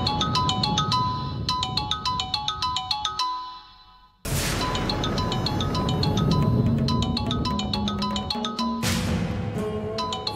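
Mobile phone ringtone in a Bengali TV serial scene, a repeating bright melodic chime that plays loudly, breaks off briefly near the middle, then resumes and keeps ringing alone.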